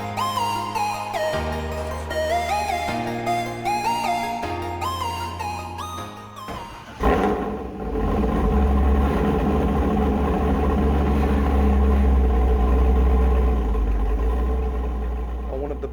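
A Chevrolet Corvette C5 engine and exhaust running at a steady low rumble, following several seconds of music, and sustained loud and close to the end.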